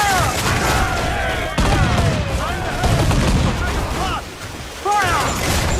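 A ship's cannons fire broadsides in Assassin's Creed 4 Black Flag, with a loud, continuous barrage of booms and crashes as sailors shout over the battle.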